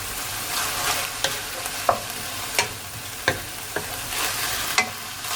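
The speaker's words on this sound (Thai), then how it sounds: "จากนั้นก็ผัดให้แห้งเลยค่ะ" Instant noodles are stir-fried in a pan until dry, a steady close sizzle running throughout while a utensil scrapes and taps the pan at regular intervals, with no talking.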